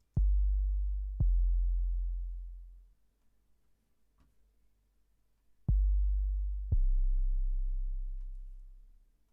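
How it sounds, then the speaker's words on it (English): A deep 808 sub bass for a jazzy drum and bass track, four long booming notes in two pairs that each decay slowly, separated by near silence, with no upright bass audible. "that is just like a super weighty sub bass that could sit underneath the upright bass"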